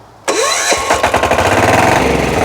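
A walk-behind tractor engine fires up after the decompressor is released, catching abruptly from silence and settling into a loud, rapid, steady putter nearby.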